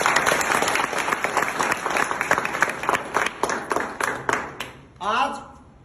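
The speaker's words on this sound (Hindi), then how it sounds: "इस गांव के लिए एक बार जोरदार तालियां होंगी।" A village crowd gathered for an outdoor speech claps loudly, the applause thinning into scattered individual claps before fading out, followed by a brief voice at the end.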